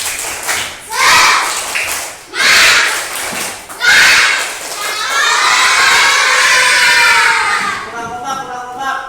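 Primary schoolchildren in a classroom do a rhythmic clap-and-shout cheer, with three loud shouted bursts followed by a long excited group yell that fades out.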